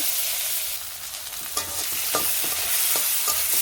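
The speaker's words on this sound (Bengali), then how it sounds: "পেঁয়াজটা হালকা ভেজে নিব" Chopped onion fries in oil in a pan with a loud, dense hiss that fills the clip, broken by occasional light stirring clicks.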